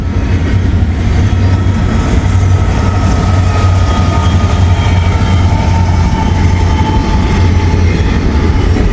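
Long freight train with two DPU locomotives rolling past close by, a loud, continuous rumble of wheels and cars with steady clatter and a low engine drone throughout.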